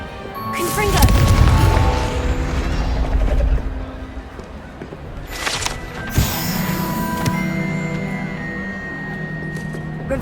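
A Confringo blasting curse goes off in the Hogwarts Legacy video game with a heavy booming blast and rumbling debris, followed by a second sharp impact and lingering magical ringing tones.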